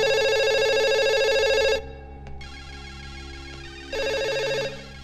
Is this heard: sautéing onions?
no